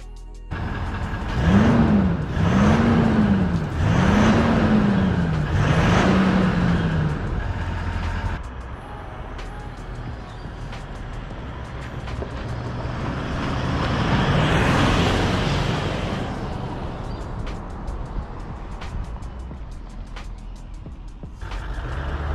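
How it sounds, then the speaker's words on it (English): A 2021 Toyota Land Cruiser 200 Series diesel on its stock factory exhaust, revved several times in a row, then settling to a quiet idle with one slower rise and fall of engine speed, heard alone and close. "Alrighty, so that was the factory exhaust."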